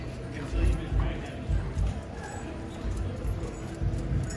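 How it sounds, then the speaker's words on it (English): A horse pulling a carriage clip-clops along a New Orleans street near Bourbon Street, steady rhythmic hoofbeats passing close by with street ambience and a voice talking over them. "We got a horse in the middle of the street. It's a horse carriage."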